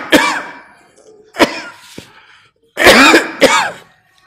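A man in a question-and-answer gathering in Lahore clears his throat and coughs several times close to the microphone, in sharp, raspy bursts separated by short pauses.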